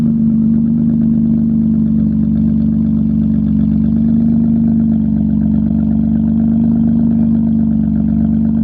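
Chevrolet Tahoe truck engine with a deep exhaust, cold-started and held at a steady, loud low rumble with slight rises in revs throughout, close by and alone with no talking.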